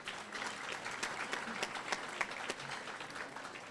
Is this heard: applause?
yes